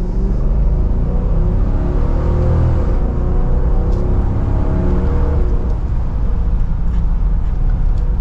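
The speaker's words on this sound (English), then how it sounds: "Definitely has a good V8 tone to it." A 2023 Dodge Durango R/T SUV with a Hemi V8 accelerating from second gear, heard from inside as a steady, loud low rumble and whir that builds gently throughout, with no talk.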